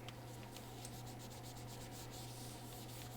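Steady soft rubbing as a battery inside a 2015 13-inch MacBook Air A1466 is wiped clean, faint and close over a low electrical hum.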